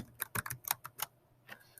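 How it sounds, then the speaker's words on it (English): Keys clack on a computer keyboard in a short, uneven burst of close, crisp taps with small gaps between them. "So if I start typing"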